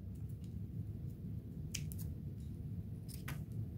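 Scissors snip plastic rhinestone-style beads free from a ribbon they were loosely stitched onto, giving a few faint, sharp clicks against quiet background hiss.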